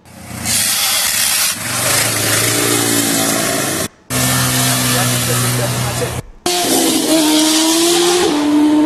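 Loud motorcycle engines roar and rev repeatedly with rising and falling pitch as riders do dangerous stunts nearby in Colombia, with brief cuts between bursts.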